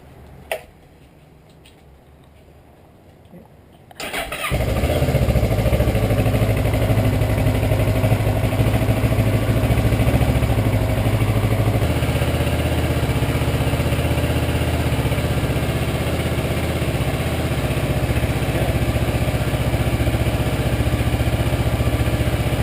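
A Kawasaki Versys 650 motorcycle starts after a few seconds of near-silence, its engine catching abruptly and then settling into a steady, loud, close idle that runs on evenly to the end.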